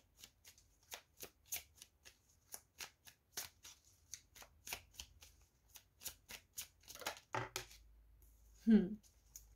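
Oracle cards riffled and shuffled by hand for a spiritual guidance reading, making a quick run of crisp, evenly spaced papery flicks close to the mic, then a brief voice near the end.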